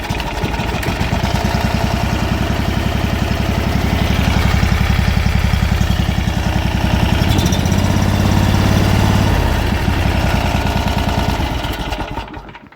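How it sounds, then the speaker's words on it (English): A new 670 small engine, electric start and bound for a racing mower or golf cart, runs loud and close, a steady throbbing idle with a slight rise and dip in pitch before cutting off at the end. "It's electric start. We're gonna crank it with my booster. Fire it up."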